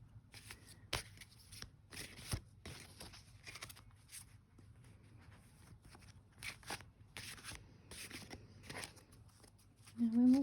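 Oracle cards being shuffled in repeated crisp riffling bursts, steady and close, with a brief low sound at the very end.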